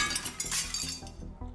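Glass smashing in the Teardown video game, a quick series of crunching breaks and tinkling shards over about a second and a half, close and fairly loud, with no talk.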